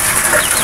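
A Yellow Leg Hatch broodcock at a backyard gamefowl farm gives a brief, close cluck, with steady noise behind it.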